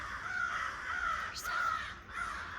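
Big black crows fight in a tree, giving loud, harsh, repeated caws in overlapping bursts, heard from nearby and alone, with no talk.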